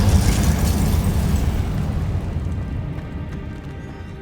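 The Incendio fire spell in Hogwarts Legacy erupts as a loud, rumbling burst of flame that slowly fades over several seconds.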